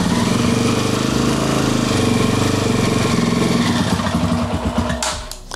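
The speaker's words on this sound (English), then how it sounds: "I'll quickly fire it up before we go ahead and jump into the next step." Kawasaki KLX140 dirt bike fitted with a BBR 170cc big bore kit, upgraded cam and stock pipe idles cold, a loud, steady close-up engine rumble that loosens into uneven pulses near the end.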